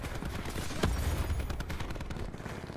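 Light machine gun fire in a video game, a quick rattling burst of rapid shots at moderate loudness amid game ambience.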